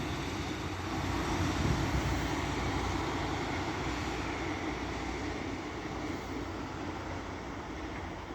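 A Class 156 diesel unit, 156459, rolls past Castleton station with a steady, broad rumble and wheel noise that swells slightly and then holds, with no talk over it.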